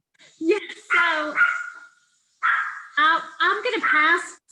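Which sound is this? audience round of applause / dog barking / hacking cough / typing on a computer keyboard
dog barking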